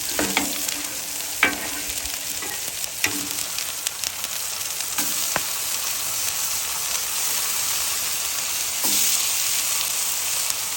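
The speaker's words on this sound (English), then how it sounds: "Drop my onions. And also, I'm going to drop my tomatoes." Onions and tomatoes sizzle on a Blackstone griddle in a steady hissing fry, with a few spatula scrapes and clacks early on and a louder surge of sizzle near the end.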